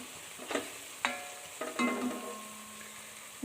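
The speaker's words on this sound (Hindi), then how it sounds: "गार्लिक ऑलमोस्ट फ्राई हो गया है" Garlic fries in a pan for dhaba-style mash daal, giving a soft, steady sizzle broken by a few sharp clinks and scrapes of stirring, close and fairly quiet, with no talking.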